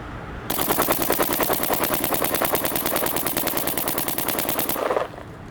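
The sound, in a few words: Luxe Ice paintball marker firing shots over a chronograph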